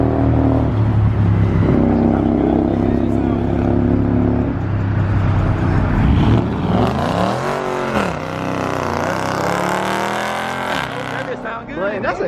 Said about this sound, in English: That's a Hemi sounding like that. That's a base model V8 sounding like that, bro.